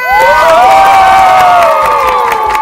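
An audience on a Thai televised singing talent show cheers loudly to welcome a young female contestant, with shrill whoops and high voices gliding over a dense crowd roar throughout.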